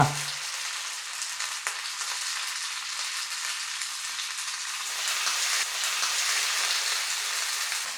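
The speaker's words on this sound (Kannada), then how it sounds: "ನಾವೀಗ ಒಂದೊಂದೇ ಮೀನಿನ ಪೀಸನ್ನು ಫ್ರೈ ಮಾಡ್ಕೊಳ್ಳೋಣ." Anjal fish pieces fry in hot coconut oil with a continuous loud sizzle, close-up, and the crackle swells slightly partway through.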